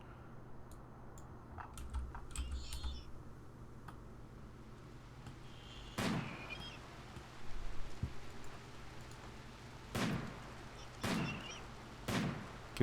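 Sharp gunshots from a RimWorld colony battle ring out in sparse bursts, a few isolated cracks spaced seconds apart over faint background noise.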